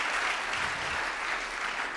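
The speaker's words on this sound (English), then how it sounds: "Can we have an applause for the French speakers?" Steady, dense applause from a conference audience in a plenary hall, a continuous wash of clapping that holds evenly for the whole stretch without pauses.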